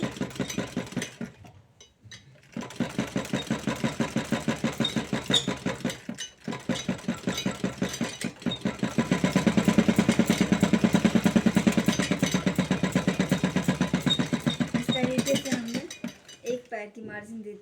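A sewing machine runs steadily while stitching a blouse, with a fast, even mechanical chatter that pauses briefly near the start and swells louder midway before stopping.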